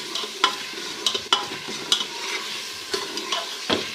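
Aloo gosht masala sautéing in a pot, a steady close sizzle with a spoon scraping and stirring through it in periodic strokes, no voices.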